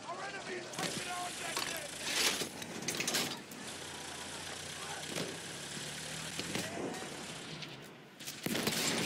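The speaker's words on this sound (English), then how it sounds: "Look out! Machine gun!" Machine gun fire in the Battlefield 1 video game, bursts of rapid shots mixed with engine rumble and battlefield noise, with shouted voices over the top at times.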